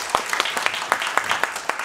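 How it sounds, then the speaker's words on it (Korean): A film festival audience claps in a brief burst of close, evenly spaced claps that sound fairly sparse. "오늘 함께 해주신 우리 안창민 선수님 다시 한번 큰 환영 박수 부탁할까요?"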